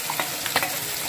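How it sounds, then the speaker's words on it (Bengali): Pumpkin flower paste stirred into a hot frying pan, a soft continuous sizzle with a few light scrapes of stirring, close and alone with no talk. "সেই কুমড়ো ফুল বাটাটা এবার আস্তে আস্তে এর মধ্যে দিয়ে দিলাম।"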